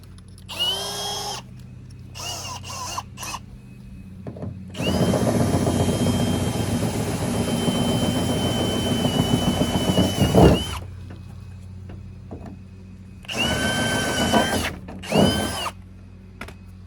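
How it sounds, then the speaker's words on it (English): A power drill whines in short bursts, then runs steadily for several seconds with a grinding tone before stopping, followed by more brief bursts, drilling something out on a 1974 GMC Suburban. "we're gonna have to drill it out."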